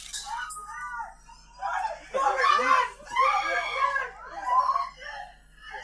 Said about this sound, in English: the sound of screaming can be heard in the background